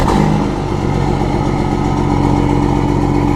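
A truck engine, just fired up after being plugged in, runs with a steady loud low rumble and slight unevenness, alone with no voices.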